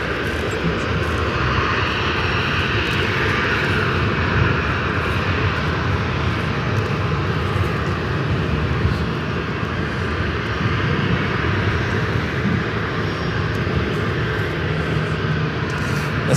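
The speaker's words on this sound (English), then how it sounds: "This flight's heading to Charlotte, flight 3108, 737-800, rolling down to 19er." A Boeing 737-800 jet rolls down the runway and takes off at LAX, a loud, steady, broadband engine roar that holds continuously throughout without fading.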